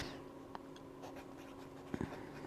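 Faint, close scratching of a Lamy Safari broad nib fountain pen writing on paper, with soft irregular strokes and a couple of louder taps near the end in a quiet room.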